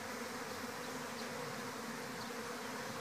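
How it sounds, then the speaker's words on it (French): A honeybee swarm gathers at a swarm trap set on a hive, producing a dense, steady, loud buzzing drone that fills the whole stretch with no voices. "maintenant l'essaim est en train de"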